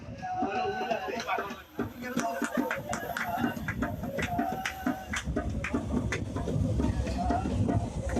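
A crowded local commuter train runs with a steady rumble and rattling clatter, under constant loud chatter, laughter and singing from a group of passengers.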